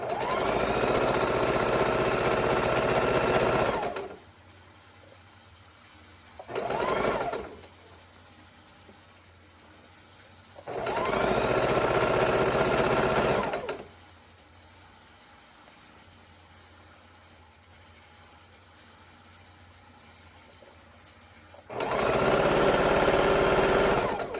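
Sewing machine stitching a quilt border seam on a baby quilt, running in three steady bursts of several seconds each, separated by quiet pauses while the fabric is readjusted.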